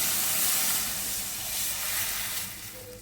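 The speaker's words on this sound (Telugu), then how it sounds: "ఇప్పుడు బాగా మిక్స్ అయినాక వాటర్ పోసుకోవాలి మ్యాగీ కోసం." A steady rushing hiss like water pouring into a hot pan for Maggi noodles, loud and close, tapering off near the end.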